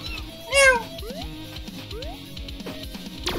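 In the Galaxy Rushroom video game, a cat gives one loud, close meow early on, followed by rising electronic blips and steady rhythmic game music.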